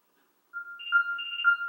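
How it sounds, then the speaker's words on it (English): An electronic telephone ringtone starts after a brief silence, with repeating tones sounding loud and close, alone without talk. "I have to take that phone call."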